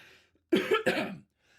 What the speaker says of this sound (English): Got this fucking persistent cough now.